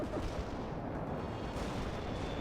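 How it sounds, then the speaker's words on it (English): Anti-tank artillery strike in the video game World in Conflict: a dense, continuous roar of overlapping blasts and rumbling impacts, loud and steady throughout with no pauses. "Anti-tank strike is inbound."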